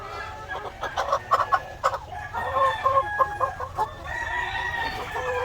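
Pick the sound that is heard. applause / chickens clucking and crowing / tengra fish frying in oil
chickens clucking and crowing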